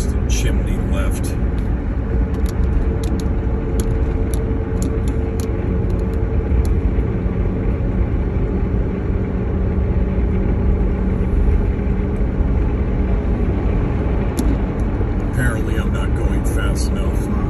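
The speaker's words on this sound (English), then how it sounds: "you'll be able to see right here the speeding car" A speeding car passes along a rural road through a burned-out forest fire area, heard as a steady, loud rushing engine and tyre roar with wind buffeting throughout.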